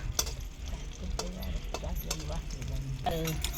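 Onion, coconut, garlic, ginger and cumin sautéed on a wood stove, a low sizzle with repeated scraping stirs and clicks of the utensil, while someone speaks over it.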